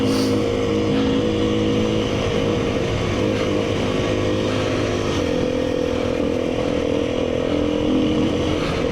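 A dirt bike engine roars steadily while the rider pounds through a run of whoops and shifts up into fourth gear at speed, a loud continuous motor drone with harmonic whine and a brief gear change midway.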